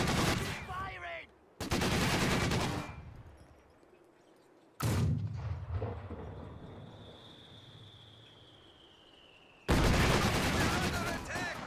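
Bursts of heavy machine gun fire and explosions from the Company of Heroes 2 strategy game, loud rapid rattling volleys separated by gaps and lingering battlefield rumble, with a brief whistling shell sound between.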